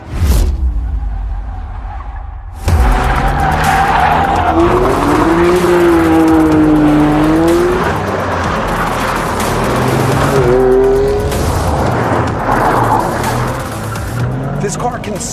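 Volkswagen Golf R on a racetrack sliding sideways, rear tire squealing in long wavering screeches over a loud engine roar, with a voice talking over parts of it.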